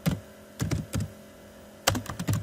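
Someone types on a computer keyboard while building a C# and SQL Server school registration app: short bursts of close, clattering keystrokes separated by brief pauses, loud and clear over a quiet background.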